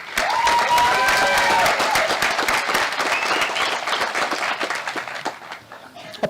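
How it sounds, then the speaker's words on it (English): A crowd at the Klamath Community College 2017 commencement applauds its honorees with loud, sustained clapping and a few faint whistles, fading out toward the end. "Please help me by thanking them with an applause."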